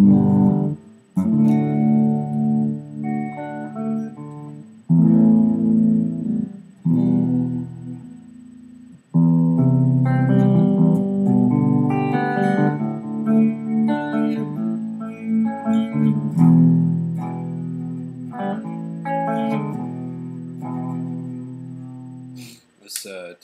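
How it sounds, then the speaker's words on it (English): A Dean ML X electric guitar on its neck pickup, played clean with volume and tone fully up, rings out a close run of separate notes and chords, with brief pauses between phrases. "So this is the neck pickup."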